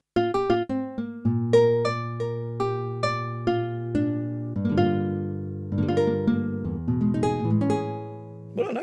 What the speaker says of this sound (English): Brazil guitar.